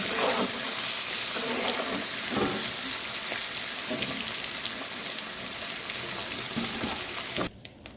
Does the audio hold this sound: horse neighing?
no